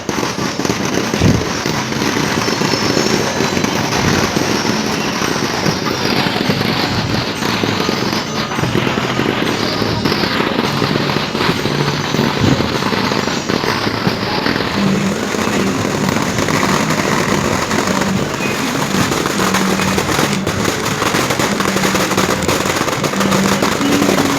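Festival fireworks bursting continuously at a Kerala pooram, a dense, loud, crackling barrage of rapid explosions that runs unbroken for the whole stretch, with no voices standing out.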